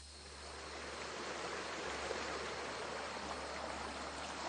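Lanren Creek in Kenting flows with a steady, soft broadband rush of water, constant and fairly faint throughout, with no voices.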